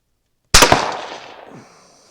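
A single sharp crack from a .17 HMR Ruger Precision Rifle, loud and close, bursting out of silence and then trailing off in a brief ringing decay outdoors.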